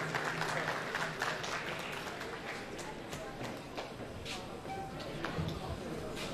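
An audience applauds at a unity night gala as the Kocaeli Metropolitan Municipality deputy mayor is called to the stage, with dense, steady clapping heard from a distance and voices mixed in.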